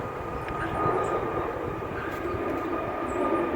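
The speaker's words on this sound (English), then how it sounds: "as soon as I start talking, a plane comes over" Airplane passing overhead by a lake after heavy rain, a steady broad engine rumble and drone holding at a constant level throughout, no voices.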